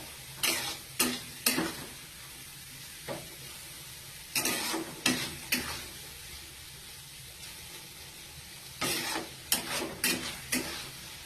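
Fried prawns are tossed with sweet crispy corn in a pan, making short bursts of scraping and clattering that come in small clusters over a faint, steady sizzle, with quiet gaps between the tosses.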